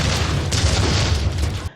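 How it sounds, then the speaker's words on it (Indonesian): A house explodes in the action film Zero Tolerance, a loud, dense booming roar with crackling debris that holds steady for nearly two seconds before cutting off abruptly. "Tapi tak lama kemudian rumah tersebut justru meledak"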